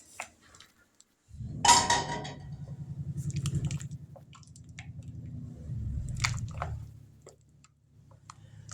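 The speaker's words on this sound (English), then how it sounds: "now we're going to give this a stir" Ham and potato soup is stirred in a pot, giving a steady thick squishing, sloshing churn that runs loud and close for several seconds, eases off and returns, with faint clicks in the quieter moments.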